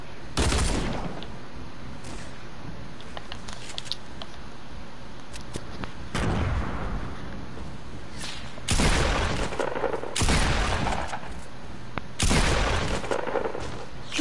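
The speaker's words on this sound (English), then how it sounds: "Of course they both have drum guns and they're both shooting me." Bursts of rapid drum gun fire in Fortnite rattle off in several loud volleys separated by short gaps, with quieter game ambience in between.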